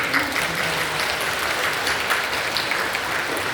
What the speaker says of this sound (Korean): 다시 한번 박수 해주시죠.